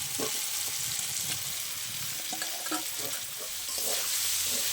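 Fried potatoes and spices sizzle in a pan while being stirred, a continuous bright frying hiss broken by scraping and clinking from the stirring.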